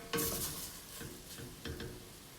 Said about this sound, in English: So the first thing we're doing is browning the turkey over a medium heat in about 1 tablespoon of oil